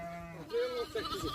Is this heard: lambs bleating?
yes